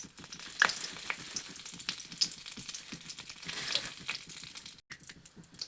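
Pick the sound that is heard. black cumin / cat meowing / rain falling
black cumin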